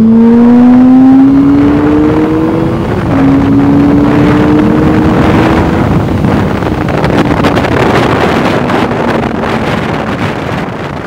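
QJMOTOR SRK 600 RR motorcycle carrying a passenger, accelerating hard at full throttle through the gears, with rising engine pitch that drops at each shift, overlaid by heavy wind roar, loud and continuous.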